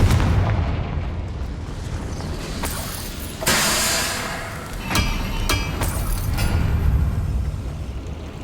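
Fire-spell explosions in the Hogwarts Legacy video game, a few sharp booming blasts and crackling bursts over a dense rumbling battle backdrop, loud and close.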